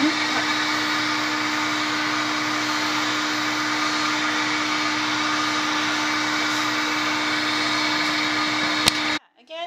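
A hair dryer blows on a Maltese dog's face after eye cleaning, a steady close whooshing whir that holds evenly for about nine seconds before cutting off abruptly.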